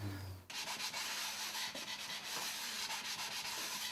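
Corners of Japanese urushi lacquerware are rubbed and polished by hand, a close, steady abrasive scrubbing in quick repeated strokes that starts abruptly after a short moment and continues without a break.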